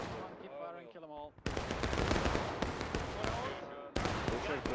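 Volleys of musket gunfire in the Civil War video game War of Rights, dense overlapping cracks and booms near and far after a brief stretch of voices shouting orders.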